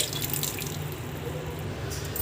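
Water pours in a steady, splashing stream, close and continuous, for a couple of seconds.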